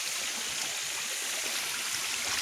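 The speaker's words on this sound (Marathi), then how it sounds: "कड्यावरनं पाणी येतो, म्हणजे फणशीवरनं पाणी येतो." Water pours down from a cliff into a deep village pool, a faint, steady rushing hiss that continues evenly throughout with no voices.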